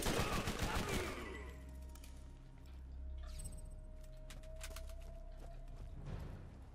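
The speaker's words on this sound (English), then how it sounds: "Who's shooting?" Gunfire in the video game Borderlands, with a rapid burst of shots at first, then scattered distant cracks and bangs, faint and mixed with game ambience.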